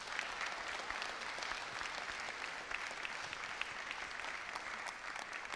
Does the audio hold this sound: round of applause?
yes